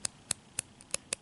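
Six crisp, faint clicks in an irregular rhythm as the airflow ring of an RTA vape tank is turned over its ball-pin detent, heard close up in a quiet room.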